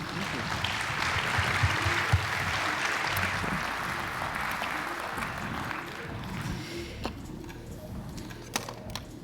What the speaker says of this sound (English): I think we can give them a warm round of applause